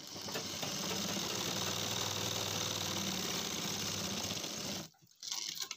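An electric sewing machine stitches a pajama pocket, a steady close rapid whirring run that stops near the end, followed by a brief burst of mechanical sound.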